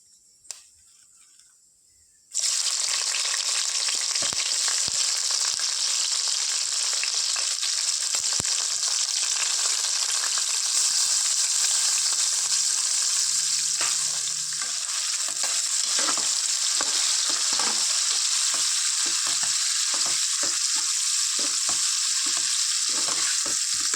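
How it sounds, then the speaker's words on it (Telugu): Onions and green chillies drop into hot oil for fish curry and burst into a loud, continuous sizzle that stays close, with occasional stirring taps and scrapes. Before they go in, the pan is quiet. "ఇందులో 3 ఆనియన్స్, ఒక 4-5 మిర్చి వేసుకోవాలి"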